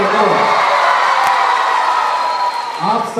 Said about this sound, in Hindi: A huge round of applause for all of you. एक बार जोरदार तालियां